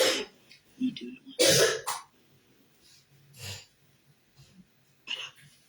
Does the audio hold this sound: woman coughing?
yes